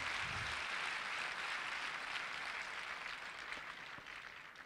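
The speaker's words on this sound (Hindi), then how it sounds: "ताली बजा रहा था, जोर से बजाइए थोड़ा।" Faint, even clapping from an audience at a Forever Living India success day event in Delhi, continuous and slowly fading over a few seconds.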